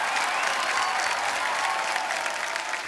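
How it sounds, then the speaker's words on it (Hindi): A television comedy show studio audience applauds loudly and steadily, a dense wash of clapping hands that holds at full strength throughout. "जोरदार तालियां एक बार"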